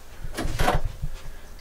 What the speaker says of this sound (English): And then I can sit back and close the doors.